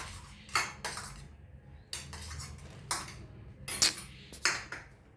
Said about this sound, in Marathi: ह्याच्यामध्ये आपण पुन्हा टॅमॅटो आणि हे सगळं मिक्स करून घेणार आहे